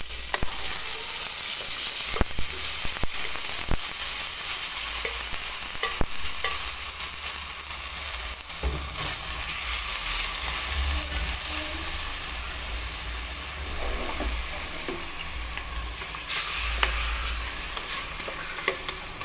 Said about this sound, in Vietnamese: Thì các bạn cho thịt vào xào.